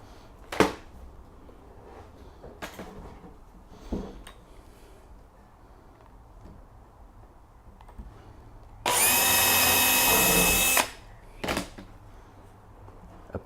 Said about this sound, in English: So I'm going to drill it and screw through the back into the smaller string.